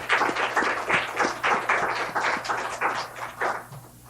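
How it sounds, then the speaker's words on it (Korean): Church congregation applauding together, a steady dense patter of many hands clapping at close range for several seconds, thinning slightly toward the end. "우리를 사귀어주시는 우리 하나님께 감사합니다며 박수와 영광을 올립시다"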